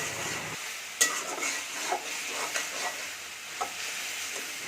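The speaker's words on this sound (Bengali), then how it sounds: "এ পর্যায়ে শাকটা আসার সময় একটু বারবার করে নেড়ে চেড়ে দিতে হবে" Ash gourd leaves cooking down in a pan are stirred over and over, giving soft scraping and a faint sizzle with a few light clinks of the spoon, close by and with no voices.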